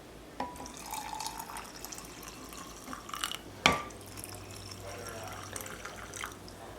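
Water is poured over salted cabbage for sauerkraut, a faint, quiet trickle with a few soft drips and splashes in a hushed kitchen.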